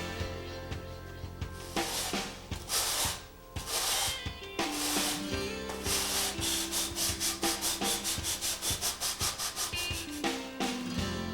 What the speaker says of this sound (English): this must be sanded off using either a sanding block or a permagrit sander